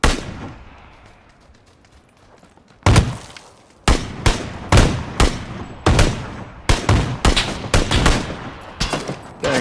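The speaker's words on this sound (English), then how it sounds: "Getting shots from the tower?" Sharp, loud gunshots from a PUBG match ring out in a spaced series after a quiet opening, each crack followed by a short echoing tail, some shots coming in quick pairs.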